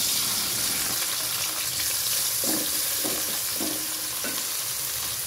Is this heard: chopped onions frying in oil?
yes